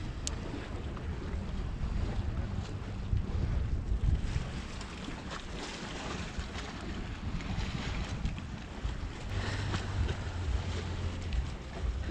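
Wind blows by the sea, buffeting the microphone in a continuous rough rush with gusty swells and low rumbling, alongside a faint wash of water in the background.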